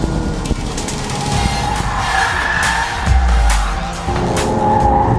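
An Audi TT's engine drones steadily as it sweeps through bends on a race track, with brief tire squeals and a low thump midway; loud and close throughout.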